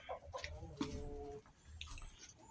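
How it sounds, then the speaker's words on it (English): Hens cluck softly in a muddy chicken run, a few faint, irregular calls and short squawks against quiet farmyard background. "we're going to watch a chicken lay an egg right here."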